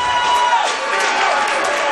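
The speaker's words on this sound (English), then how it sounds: "while the Seahawk fans continue to make noise." Seahawk hockey fans at the 2016 ECAC Northeast Championship make a sustained roar of crowd noise and cheering, heard under a commentator's voice.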